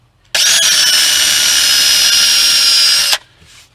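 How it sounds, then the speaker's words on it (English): A power drill whirs loudly and steadily for about three seconds, drilling through tape on wood for a van galley door, a high whining buzz that cuts off abruptly. "Now I'm going to drill into my tape."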